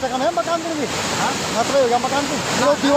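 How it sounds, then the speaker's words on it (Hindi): A river in Birokhal, Uttarakhand, swollen by sudden floodwater after a cloudburst, roars steadily and loudly with a broad rushing wash, while someone talks over it throughout. "बादल फटने से नदी में अचानक उफान आ गया।"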